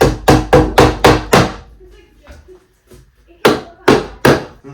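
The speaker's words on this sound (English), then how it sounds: "I had to tap it into place because it was a little snug on the edge there" An Origin21 floating shelf is tapped into place against a wall: a rapid run of six sharp knocks, a pause with faint handling, then three more firm taps, close and loud.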